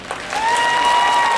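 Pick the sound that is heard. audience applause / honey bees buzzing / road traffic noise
audience applause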